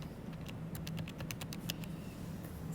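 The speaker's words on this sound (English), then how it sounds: "Let me type that in." A calculator's keys are tapped in a quick run of light, close presses to enter numbers, then go quiet over a faint steady room hum.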